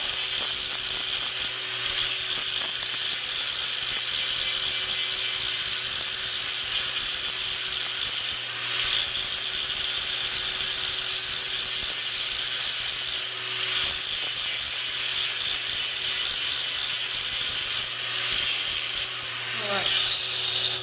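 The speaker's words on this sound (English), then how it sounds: "it takes a little bit of hand strength to hold that grinder" A hand grinder grinds a bevel in a steady, continuous high-pitched whine with a faint low hum under it. The pitch dips briefly every few seconds as the angle and pressure change.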